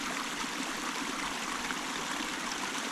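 Water runs steadily out of a dam's filter drain, a constant rushing trickle with no pauses, close and fairly loud throughout.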